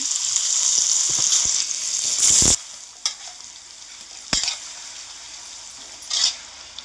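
Coriander mint chutney stirred in a hot pan with the gas switched off, a steady sizzle and crackle running under repeated spoon scrapes, then quieter with a few separate clinks of the spoon against the pan.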